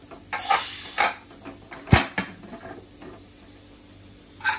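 A pressure cooker being opened after cooking, with a run of metallic clinks and scrapes from the lid and a sharp clank midway, close up and with no voices.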